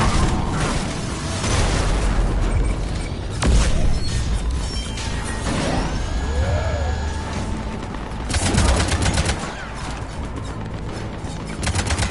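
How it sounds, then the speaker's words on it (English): Heavy cannon fire and combat blasts in the Mass Effect Legendary Edition video game, with repeated loud booms, crashes and rapid bursts of gunfire filling the scene, plus a sweeping whine partway through. "Cannons engaged."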